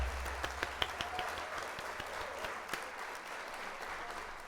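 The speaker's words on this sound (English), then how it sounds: "And we'll hit the old applause there." A canned applause sound effect on a livestream, a fairly faint wash of clapping with a few sharper claps standing out early on, fading gently over a few seconds.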